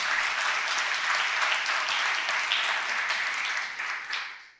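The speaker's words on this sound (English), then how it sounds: "Give Wyandotte County a round of applause" Audience at a summit opening session breaks into sustained applause, a dense even wash of clapping that fades out near the end.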